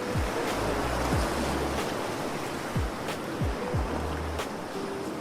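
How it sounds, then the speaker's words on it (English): Ocean surf on a Sri Lanka coast rolls in a steady broadband wash, with wind buffeting the microphone in low rumbling gusts; loud and continuous, no voices. "Just the waves, the wind, and the sound of the ocean."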